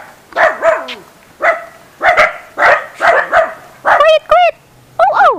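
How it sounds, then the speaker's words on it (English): A dog near a memorial park in Bohol barks repeatedly in loud, close bursts, some with rising yelping tones. "There is a dog there."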